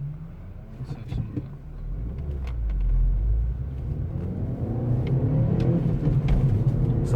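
Seat Leon with a 1.6 engine running, a low steady rumble that swells briefly as if revved, then settles into a continuous hum, close and moderately loud with faint background noise.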